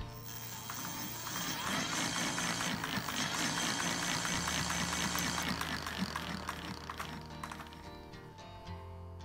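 An electric bike's hub motor wheel spins up after being switched on, giving a dense, close mechanical whir with ratcheting clicks that holds steady for several seconds before tapering off near the end.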